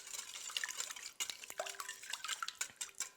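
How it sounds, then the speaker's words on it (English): Warm milk being stirred by hand into Greek tsoureki Easter bread dough in a bowl: close, irregular scraping and soft clinks of a spoon against the dish, with wet sloshing. "just stirring this baby all together by hand"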